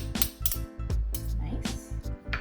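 A spoon taps several times against a bowl or container to knock off toasted sesame seeds for kimchi, giving short, sharp clinks close by over a steady background hum.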